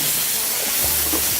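Ground meat sizzles and fries in a pan beside boiling broth, a loud, steady hiss of frying with faint bubbling underneath.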